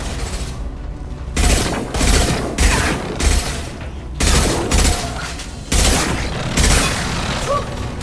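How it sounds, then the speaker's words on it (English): Heavy gunfire in Mass Effect 2, loud booming shots in a repeated rhythm of roughly eight blasts spaced about half a second to a second apart, each with a sharp attack and a rumbling tail over a constant battle din. "Firing a high-impact shot."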